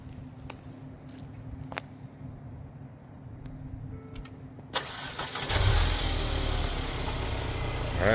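A Mercedes CLA250 engine cranks and catches after a jump start from a 12-volt booster, a low steady rumble building into a louder, fuller running idle in the last few seconds, close by with no talk.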